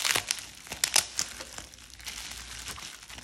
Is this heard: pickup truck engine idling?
no